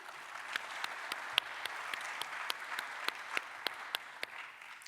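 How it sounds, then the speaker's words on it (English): Audience applause at a conference's official opening panel, a steady, fairly quiet wash of clapping from a hall with a few crisp nearer claps standing out in an even rhythm. "please give an applause to Damien"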